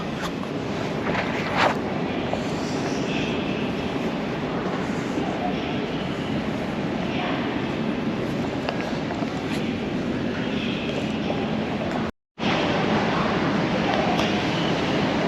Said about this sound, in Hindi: मेट्रो स्टेशन पहुँच गए